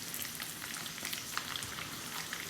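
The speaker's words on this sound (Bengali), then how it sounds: "আবার একে একটু ফ্রাই করে নেই" Ginger, garlic and green chilies fry steadily in hot oil for Balochi tikka, a dense, even crackling sizzle heard close up with no talking.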